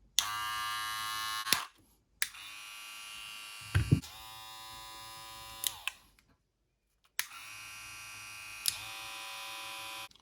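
A Wahl Senior electric hair clipper buzzes in three separate runs, each switched on and off with short silent gaps between, a steady close-up hum.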